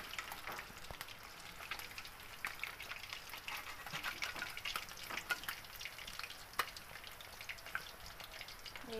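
Mirika fish fries in a pan with a faint, crackling sizzle, sprinkled with small irregular pops and spits throughout.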